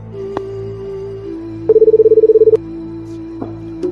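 A telephone number is dialed as a quick run of evenly spaced keypad tones, preceded and followed by isolated beeps, all over a steady tone and a faint background hum.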